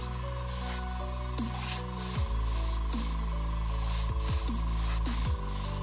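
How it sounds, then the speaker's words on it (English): A steady, continuous aerosol spray of ink hisses up close from top to bottom over a resin-printed diorama, broken by a few short pauses, over a low constant hum. "all you need to do is just spray from one direction,"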